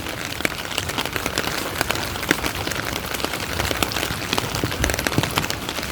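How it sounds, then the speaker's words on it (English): Steady rain falling outdoors where chickens are kept, a dense even patter of drops with occasional louder splats, moderately quiet and continuous with no voices. "It's raining now."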